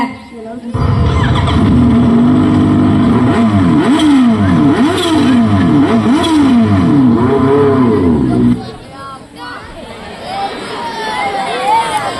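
A motorcycle engine revving loudly in rising and falling surges for several seconds, then cutting out while other sounds and voices continue.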